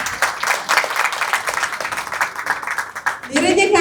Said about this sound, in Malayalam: നിറഞ്ഞ കയ്യടികളോടെ സ്വാഗതം ചെയ്യാം